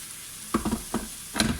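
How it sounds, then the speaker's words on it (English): Water from a kettle hits a hot pan of meat for a pie, giving short hissing sizzle bursts in three or four spurts against a quiet background. "And then I'm going to pour some water from the kettle in"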